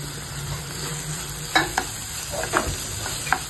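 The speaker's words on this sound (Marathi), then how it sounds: "टोमॅटो नरम होईपर्यंत याला मी शिजवून देणार आहे." Tomato frying in a pan for a dry fish sukat dish, with a steady sizzle under a few sharp spatula scrapes and clinks as it is stirred, no voices.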